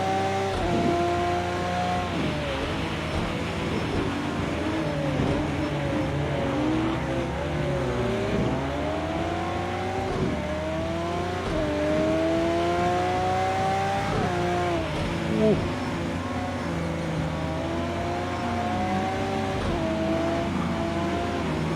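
Race cars circling a track on the far side of the grandstand, their engines continuously rising and falling in pitch as several cars pass one after another, heard at moderate distance with no talking.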